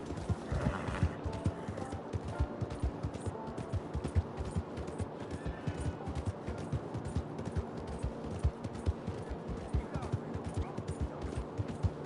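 Hooves clip-clop steadily as a horse moves along in Red Dead Online, a close, regular beat running throughout with a brief whinny and distant game sounds in the background.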